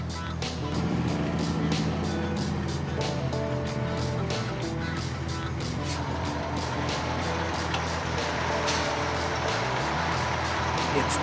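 A tiller fire truck, with a rear section steered by a tillerman, drives past and turns; a steady, loud engine rumble with a low rising drone lasts throughout, and distant voices sound faintly beneath it.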